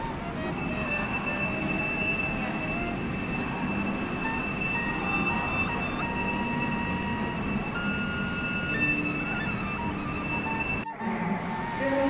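A high-speed train arriving at a station on the Tegaluar–Padalarang line, its loud steady rumble laced with a sustained high wheel squeal for most of the stretch, then cutting off abruptly near the end.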